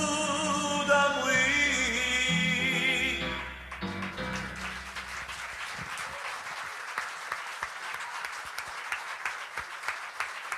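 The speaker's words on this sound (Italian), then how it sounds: "Papà ringrazia questo applauso." An audience applauds at a concert, and the sustained clapping and cheering rise as the music winds down, then carry on alone for several seconds, moderately loud and near.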